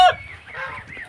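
Backyard chickens cluck and squawk as they crowd around to be fed, a short burst of loud honking calls from nearby followed by softer clucking.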